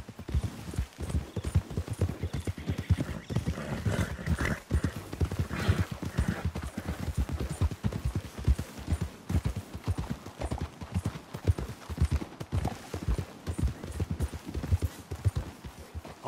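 Horses in Red Dead Redemption 2 walk steadily uphill, their hooves clip-clopping in a continuous, fairly close rhythm, with an occasional faint whinny behind the footfalls.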